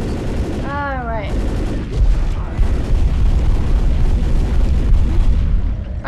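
Gunfire in the video game Left 4 Dead, a sustained, loud, rumbling stream of shots with booming undertones that lasts several seconds, and voices are heard early on.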